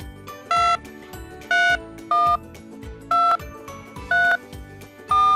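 A telephone sound effect of six evenly spaced keypad dialing tones, each a short clear beep, plays loud and alone over a faint steady hum.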